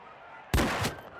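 A single sharp gunshot from a 1700s-era firearm in Mount & Blade II: Bannerlord cracks out suddenly after a quiet stretch. The shot is loud and close, with a short rolling tail before it fades.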